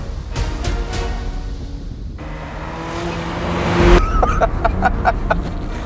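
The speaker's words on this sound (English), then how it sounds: "This launch control is a very nifty feature." Launched off the line with launch control, a 2016 Volvo S60 Polestar builds engine revs into a loud surge, then rasps through rapid gear changes as it accelerates hard nearby.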